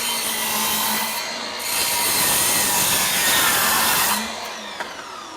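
A Ryobi 18V 7-1/4-inch sliding compound miter saw makes a light scoring cut in wood, with a steady whirring rasp for about four seconds before the blade winds down and goes quiet.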